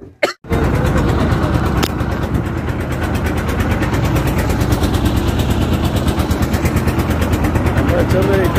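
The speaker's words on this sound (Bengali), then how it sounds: "এটা ইঞ্জিন চালিত নৌকা" Engine-powered wooden boat leaving a ghat in Nikli for Chhatirchar, its motor chugging in a loud, rapid, steady putter close by after a brief start, with voices in the background.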